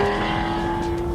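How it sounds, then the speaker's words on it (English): A Lamborghini Gallardo SE fitted with a one-of-one Brook racing exhaust and Inconel pipes holds a loud, steady engine note with a raspy, buzzing exhaust tone, close and continuous for about a second. "you can really hear the difference on this one because it has a Brook racing exhaust with Inconel pipes"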